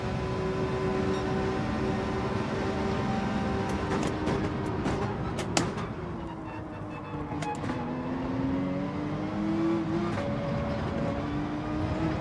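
A McLaren race car in Gran Turismo 7 runs with a continuous engine whine that rises and falls through gear shifts, with brief clunks of curb contact, steady and fairly loud with no talk.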